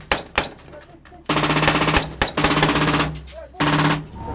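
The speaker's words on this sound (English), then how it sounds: "Rounds hit the armoured vehicle." Bursts of gunfire rounds striking an armoured vehicle in Haiti amid gang violence, loud sharp impacts in quick clusters with brief gaps, close and harsh, no talk.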